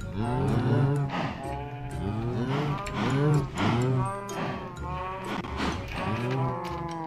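Spawned cows in Minecraft give several long, drawn-out moos one after another, close and clear, each low lowing call overlapping the next with no talk over them.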